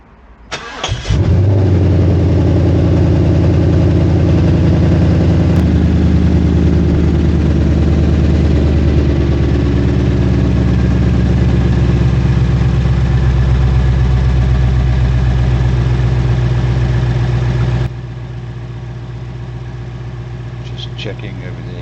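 A Ford Mustang GT fitted with an Injen cold air intake cranks and fires up, settling into a loud, steady idle close by that runs for about seventeen seconds before dropping to a softer, lower idle.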